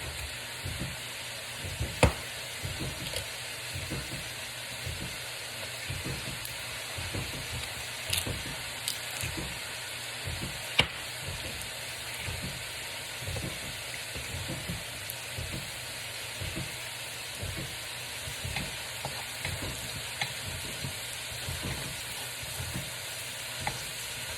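Onions and garlic sizzle and crackle in a hot pan, a steady frying hiss with occasional stirring clinks and scrapes, no talking.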